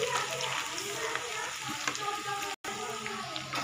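Onions frying in oil for a home biryani, a loud, dense sizzle that runs steadily throughout with a brief cut in the middle.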